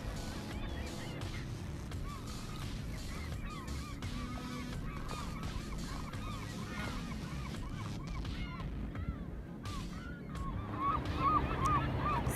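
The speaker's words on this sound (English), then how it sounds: "Seagull Island is inhabited by 9 million seagulls." Many seabirds call over and over on Seagull Island, a dense, distant chorus of squawks and honking cries above the lap of water, growing a little louder toward the end; no talk.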